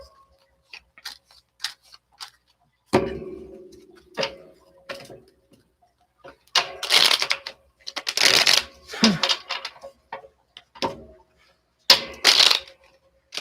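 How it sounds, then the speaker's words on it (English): Tarot cards shuffled by hand during a live reading, with bursts of crisp riffling and flicking separated by quiet pauses, close up, plus a few soft taps and a brief spoken word. "These don't want to shuffle, so something's not going smoothly here."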